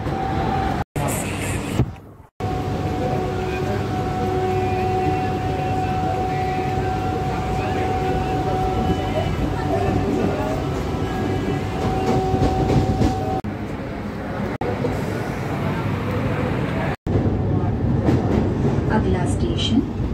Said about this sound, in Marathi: आम्ही ट्रेनमध्ये बसलोय।